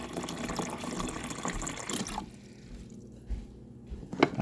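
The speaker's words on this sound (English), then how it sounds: "Let's turn some water on." Water runs steadily through a newly installed refrigerator water inlet valve, then cuts off abruptly, leaving near-silence broken by a few small drips and clicks.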